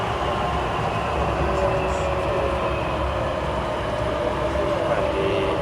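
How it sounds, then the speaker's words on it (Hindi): Airport terminal shuttle train at Jeddah airport running fast toward the international departure gates, a loud steady rumble with rail hum and rattling carriage noise throughout. "Train is to international departure gate next. Very fast."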